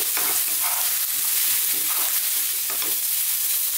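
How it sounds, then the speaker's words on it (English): Eggplant pieces frying over really high heat for an Indian coconut masala curry, a steady loud sizzle with spatula stirring scrapes throughout and no talking. "So really high heat. So we need to be constantly stirring, and we're going to do this for 2 minutes."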